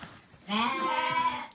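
An imported sheep gives a single loud, drawn-out bleat close by, wavering slightly, after a moment of quiet farm background.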